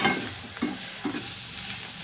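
Palak paneer mixture being stirred in a pan, a soft scraping swish with light sizzling underneath, a few distinct stirring strokes close by and no voices.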